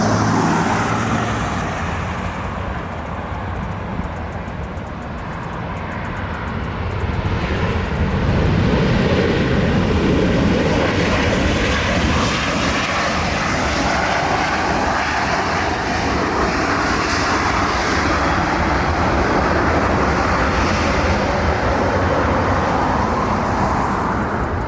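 An Asiana Airlines A380-800 from Seoul lands at LAX, heard from the Westchester side near the north end of the airport, about 300 yards from the runway. The jet roar is loud, broad and continuous, building gradually and filling the whole stretch.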